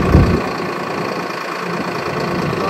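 A Swaraj 969 CRDi tractor's diesel engine idles close by, a steady mid-pitched rumble with a brief louder thump at the start.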